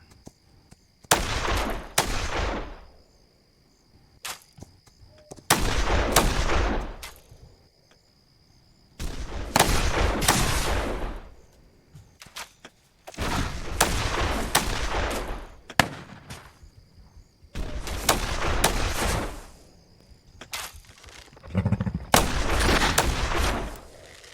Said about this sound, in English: What the hell are you shooting at?